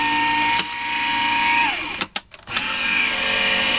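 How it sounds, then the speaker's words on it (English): A die cutting machine feeds card stock through for a trifold card. Its loud, steady mechanical whir runs close up, breaks off briefly with a few knocks, then resumes. "Run them through your die cutting machine."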